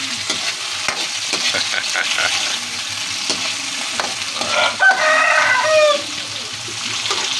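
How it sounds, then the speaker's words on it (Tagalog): Fish broth with tomato bubbles steadily in a cooking pot, a continuous close boiling hiss, while a rooster crows briefly in the background partway through. "Kulo na yung ating sabaw guys"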